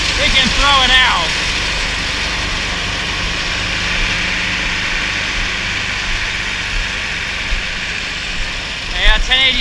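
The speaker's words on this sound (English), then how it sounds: "1086 is on blower duty as usual." A 1086 tractor runs a Whirl-A-Feed forage blower taking corn silage, giving a steady, loud mechanical roar and hum throughout, with faint squeaks and chirps at the start and end.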